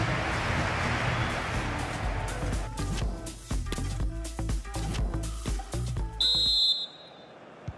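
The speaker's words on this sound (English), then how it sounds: "And the whistle is sounded for half-time in this game." In a FIFA 23 Liverpool career-mode Champions League group-stage match, the referee blows a sharp, loud whistle for half-time. It comes after several seconds of stadium crowd noise and thumps, and then the crowd drops away.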